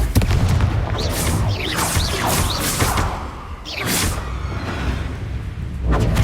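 Confringo spell explosions in the Hogwarts Legacy video game sound as loud repeated booms and bursts with fiery crackle over a dense game soundscape.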